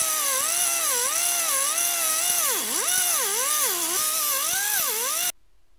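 An angle cutoff tool cutting through a stubborn exhaust flange bolt under a 1998 Chevrolet Blazer, a loud, close, high whine that rises and dips steadily as the load changes, then stops abruptly near the end.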